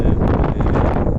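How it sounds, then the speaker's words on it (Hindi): Strong wind blows hard through trees outdoors near farm animals, a loud, steady roaring rush that buffets the microphone and then cuts off. "ये देखें दरख्तों से अंदाज़ा हो रहा होगा आपको कितनी तेज़ हवा चल रही है।"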